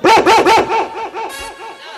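Several loud dog barks in quick succession, then a softer run of yips and whines fading into a steady, fainter yelp.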